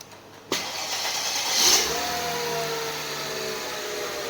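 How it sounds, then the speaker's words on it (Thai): A Mercedes-Benz W210 E240 (2000) engine, cold, cranks and catches at once, surging briefly before settling into a quiet, steady idle close by. "เดี๋ยวผมจะลอง สตาร์ทเครื่องให้ฟังนะครับ"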